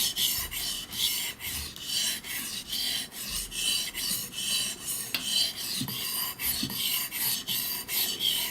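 A steady, rhythmic rasping scrape of a Japanese santoku knife blade stroked back and forth on a whetstone with light pressure, repeated many times at an even pace, close and clear.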